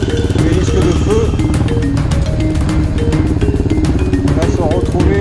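A Yamaha XTZ 660 trail motorcycle rides dirt paths, its single-cylinder engine thumping steadily and close throughout, with a voice talking over it.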